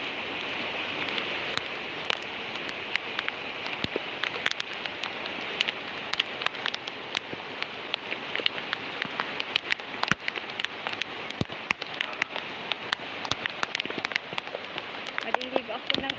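Steady rain pours down outdoors, a dense, even hiss of drops hitting surfaces with scattered sharper splashes throughout, close and continuous with no break.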